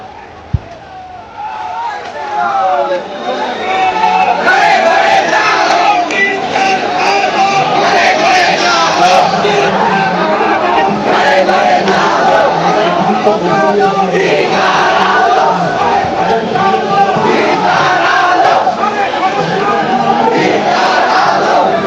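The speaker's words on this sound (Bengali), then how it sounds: "তারা কিন্তু জয় গীতা বলে কিন্তু এখানে স্লোগান দিচ্ছে" A large crowd of devotees at the Kantajew temple, gathered for a mass Gita recitation, chants the slogan 'Joy Gita' in loud, sustained unison that swells after a couple of seconds and continues throughout.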